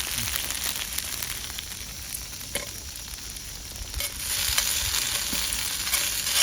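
Meat pieces pan-fry in a rural mountain village setting, giving a continuous hissing sizzle that swells louder partway through, with a few faint clicks and no voices.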